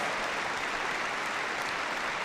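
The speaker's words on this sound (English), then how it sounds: "Let's give them another round of applause" Sustained applause from a large audience at the Crufts dog show, a dense steady wash of clapping hands filling the space, even and continuous with no voices over it.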